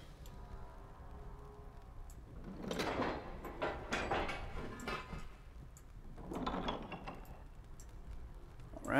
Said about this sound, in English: let's move through this door